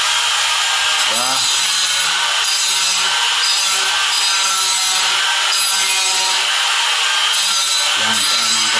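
Steady, loud abrasive whine of a grinder working putty at the corners of a wall, continuous and close with brief low dips, no voices over it.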